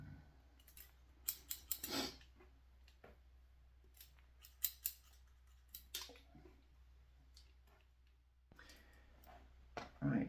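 Scissors snip at a hair replacement system in quick, close, crisp clicks, some clustered and some spaced out, over quiet room tone.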